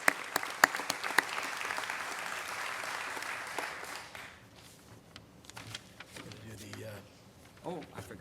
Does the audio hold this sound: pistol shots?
no